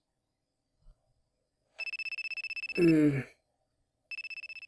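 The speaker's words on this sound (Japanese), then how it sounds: "電話は鳴り続けている。" Telephone ringtone sound effect in an audio drama, a bright pulsing electronic trill that rings, pauses while a sleepy voice murmurs, then starts ringing again.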